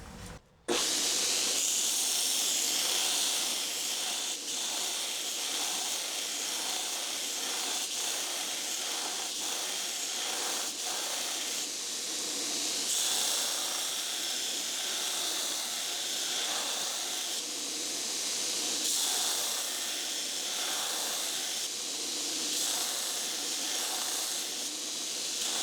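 Hot knife blades being quenched during heat treatment, giving a sustained soft hiss and steamy bubbling that starts after a brief pause and continues fairly evenly at moderate level with no talking.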